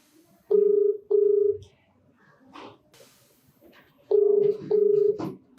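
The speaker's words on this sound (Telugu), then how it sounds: "ప్రత్యూషతో మాట్లాడతానండి, కాల్ చేస్తాను తప్పకుండా." Telephone keypad tones as a call is placed, two pairs of steady beeps with a short speech-like sound between them, close and clear.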